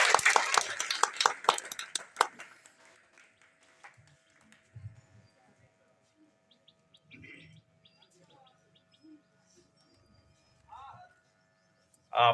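Applause at a coaching centre gathering welcomes a teacher, loud dense clapping for the first two seconds and then tapering off into scattered claps, with birds chirping and faint voices in the background.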